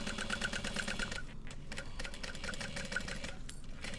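A sewing machine runs a rapid, even basting stitch on a bowler bag, the quick mechanical clatter pausing briefly mid-run before resuming at a moderate, close level.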